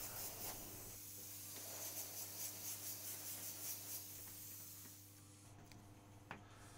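A soft, steady hiss of airbrush spraying paint with short pulsing bursts, faint and close, then quieter with a small click near the end.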